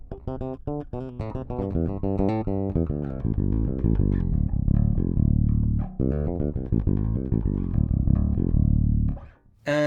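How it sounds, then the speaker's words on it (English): Bass guitar, a Sire Marcus Miller V7, played on the back pickup alone with the preamp set flat: a run of loud, close plucked notes with strong low harmonics, pausing briefly near six seconds and dropping out just before the end. "And the back pickup sounds like this."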